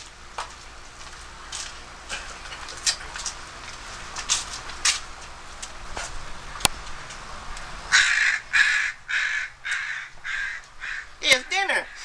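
A crow caws repeatedly in an outdoor setting, a series of harsh calls spread across the clip, growing louder and denser toward the end, with a brief voice-like sound near the close.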